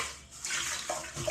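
Running tap water pours steadily over groceries being washed in a sink, a continuous close splashing that shifts slightly as items move under the stream.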